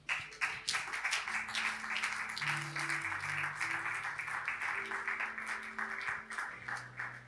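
A church congregation claps together in a sustained, dense round of applause that stays even throughout, with tonal sounds, likely music or voices, running underneath.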